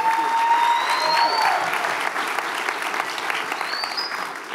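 Town hall meeting audience applauds in a steady, close wash of clapping with a few whistles and cheers, easing slightly toward the end.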